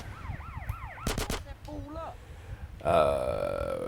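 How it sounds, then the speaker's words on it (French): Gunfire in the video game GTA San Andreas, heard as a quick burst of sharp shots amid game sound effects, warbling tones and a rising engine-like roar, with someone talking over it. "Qui c'est qui nous tire dessus, là?"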